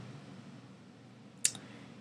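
A single sharp computer keyboard keystroke, the return key pressed once, stands out near the end of a quiet stretch with faint background hum.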